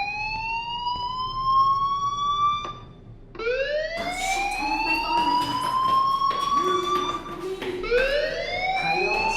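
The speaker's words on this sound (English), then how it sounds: "do you hear that fire alarm? That means you should be outside." A fire alarm in the video game Life Is Strange sounds loudly and continuously, a rising electronic wail that repeats in long sweeps with a brief break midway.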